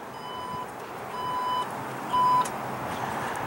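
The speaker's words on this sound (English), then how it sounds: "Power tailgate." The power tailgate of a 2016 Porsche Cayenne with a 3.6 L V6 sounds three short electronic beeps at roughly even intervals over a faint motor hum, quiet and close.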